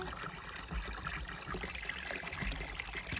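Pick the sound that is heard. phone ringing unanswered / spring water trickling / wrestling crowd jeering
spring water trickling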